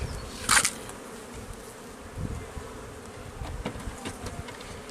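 Honeybees buzz steadily around a group of active beehives at an apiary, a continuous close insect drone with a brief louder pass near the start and no talking.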